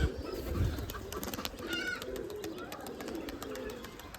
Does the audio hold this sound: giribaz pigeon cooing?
yes